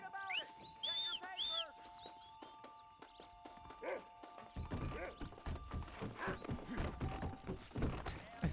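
Horse hooves clip-clop in Red Dead Redemption, a short run of hoofbeats at the start, then steadier rhythmic thuds later mixed with game ambience, while a voice talks over parts of it.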